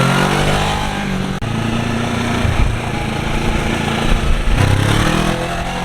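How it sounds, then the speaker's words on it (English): Kawasaki Ninja 650 fitted with an Akrapovic exhaust accelerating moderately, a deep, steady engine grumble that holds loud and close with a short dip partway and a rising note near the end. "here's just a moderate acceleration for you guys. Again, that thing definitely has a deeper grumble"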